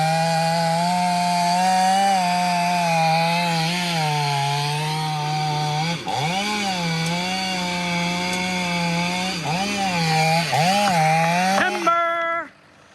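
A chainsaw cuts steadily through a huge dead tree behind a house, its loud engine holding a sustained whine that dips and bogs as the bar bites into the wood, then revs back up before cutting off.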